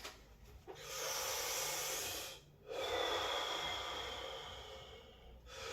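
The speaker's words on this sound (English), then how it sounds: "We're going for breathing, chi breathing." Slow, deep breathing during a moon meditation, with two long airy inhales or exhales separated by a short pause, close and soft, with no talking.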